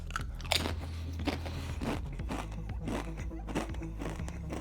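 Close, crisp crunching of a tortilla chip being bitten and chewed in a series of sharp, irregular cracks, with a faint trace of voice in the background.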